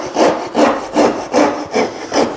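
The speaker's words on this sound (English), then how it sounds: "Let's get that out now with the coping saw." A coping saw cuts through wood in six steady, evenly spaced rasping strokes, close and loud with no talk.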